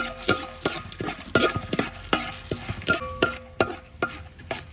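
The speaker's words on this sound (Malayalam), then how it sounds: "ഇതിൻ്റെ കൂടെ തന്നെ കടലപ്പരിപ്പും കൂടി ഇട്ട് കൊടുത്തേക്കാം നല്ലപോലെ ഒന്ന് ഇളക്കി കൊടുക്കാം" Beaten rice and chana dal are stirred in a pan, giving repeated scraping and rustling strokes about every half second with crisp clicks of the spoon against the metal. The strokes are close and moderately loud, with no voices.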